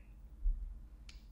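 A single sharp computer mouse click lands about a second in, brief and close, over a faint low background hum with no voices.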